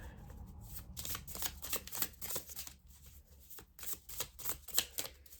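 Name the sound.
shuffling Whispering Woods oracle cards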